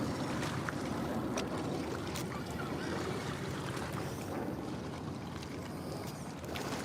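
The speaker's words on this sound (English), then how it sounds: "Hope the sound of the waves aren't putting us all to sleep." Ocean waves wash in a steady, low rushing surge mixed with wind, continuous for about seven seconds with no talking.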